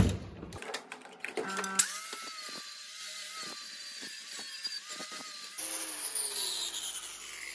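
A drill bores a hole during a Ford Capri 2.9 project, giving a steady, fairly quiet motor whine broken by short pauses and a few clicks before and after.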